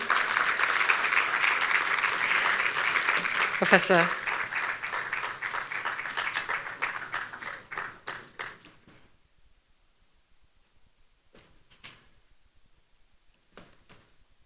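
Audience applause at a national social cohesion dialogue event, dense clapping for about eight seconds that fades out, followed by a few scattered claps, with a brief spoken word near the start.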